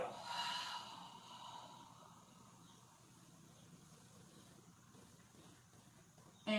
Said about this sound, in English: Notice I'm exhaling with the exertion.